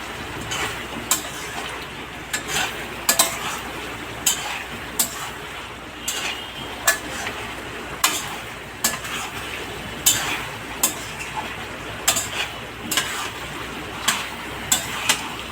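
Potato curry with spices being stirred in a pan, with a drumstick-fritter dish in progress; a utensil scrapes and clinks against the pan in repeated sharp strokes over a soft, steady frying hiss, with no talking.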